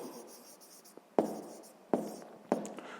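A pen or pencil writes a number by hand on paper during a sixth-grade maths exercise, giving faint scratching followed by three sharp taps, close and quiet.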